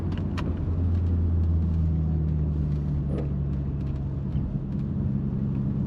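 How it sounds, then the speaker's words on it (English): A BMW 325is cruises at about 50 km/h on a road coming down from a mountain. A steady low engine and road rumble fills the cabin without break, and no one speaks. "I'm now just doing 50 k's an hour"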